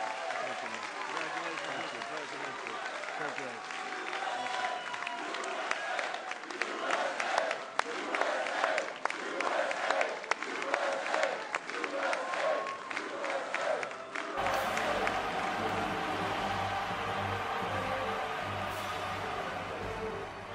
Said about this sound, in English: This is how liberty dies, with thunderous applause.